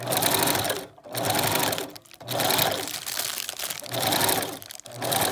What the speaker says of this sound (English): Whenever usually when you begin to stitch anything, you're always going to go forward and then backwards.